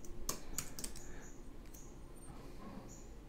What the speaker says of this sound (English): Still having trouble typing.